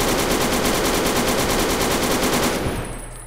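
A SAW machine gun in Fallout 3 firing one loud, continuous rapid burst that runs for nearly three seconds before cutting off into a short decaying tail, with no voices.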